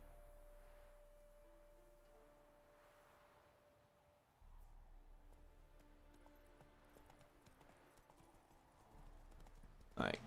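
Hooves of Roach the horse clip-clop in a steady walking rhythm in The Witcher 3 open world, fairly faint and running beneath someone talking.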